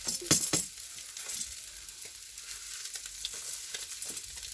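Chicken fat sizzles and pops over a wood fire as it grills, with crackling bursts near the start easing into a steady low hiss and scattered spits, close and fairly quiet.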